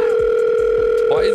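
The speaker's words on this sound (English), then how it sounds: "Why is this ringing still going on?" Phone ringing in the GTA 5 video game with the LSPDFR police mod: a steady, continuous electronic tone held throughout, with soft low thuds repeating beneath it.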